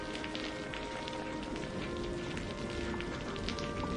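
Heavy rain pours outside a cave in a constant, loud, broadband rush with faint drop taps, steady and unbroken for the whole stretch.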